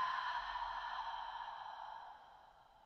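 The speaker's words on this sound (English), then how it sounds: "Big inhale through the nose. Exhale, let it go." A long, soft breath out during a yoga wake-up flow, a smooth airy exhale that fades gradually over a few seconds, heard alone and close.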